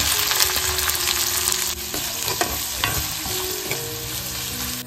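Chopped onion goes into hot oil with garlic in a wok and sizzles steadily, with a continuous loud frying hiss broken by a few scraping stirs of the spatula against the pan.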